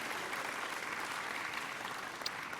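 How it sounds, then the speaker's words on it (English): Steady, dense audience applause, many hands clapping continuously at moderate volume from start to finish. "yes, you can applaud that"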